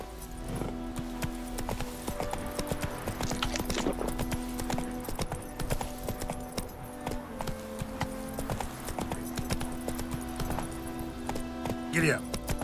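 Galloping horse hooves in Witcher 3: Wild Hunt on PC, a steady clip-clop rhythm running the whole stretch under game music, with a rider's shouted urging heard over it.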